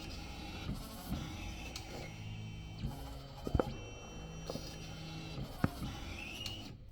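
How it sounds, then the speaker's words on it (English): A Smartstitch S1001 embroidery machine traces the outline of a design on a hooped hat, giving a steady whirring motor hum with a few sharp clicks and knocks, close and fairly loud throughout. "we're gonna move the needle 1 around the outline of the design"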